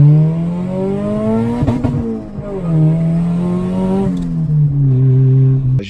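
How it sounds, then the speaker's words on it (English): Turbocharged Honda DC2 engine revving steadily up and down, repeatedly hitting boost cut with a stuttering, held drone, close and alone without talk. "Here's a clip of it, you know, hitting boost cut."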